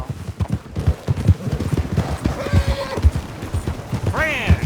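Galloping horse hooves in Red Dead Redemption 2 pound in a fast, steady clip-clop rhythm, close and prominent, with a brief whinny near the end.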